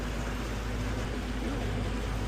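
A Scout 172 Dorado boat with a 140 hp Suzuki outboard cruises, its engine giving a steady, dense drone mixed with rushing water and wind, loud and constant throughout.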